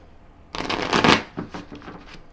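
A tarot deck, still stiff and new, is shuffled close up in a few quick riffling bursts, loudest in the first second and then trailing off into softer flicks, with no talking over it.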